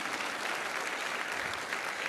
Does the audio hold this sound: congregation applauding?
yes